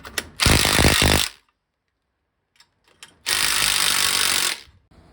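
A power tool, likely an impact gun with a 19mm socket, loosens coil spring compressors on a 1981 Toyota Celica front shock assembly, sounding as two loud, close bursts of rattling hammering about a second each, separated by a quiet pause.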